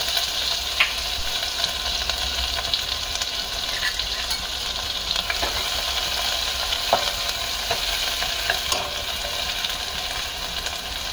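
Green chilies and ginger sizzle loudly in hot oil in a pan for chole, a continuous close crackling fry with occasional stirring clicks and no talking.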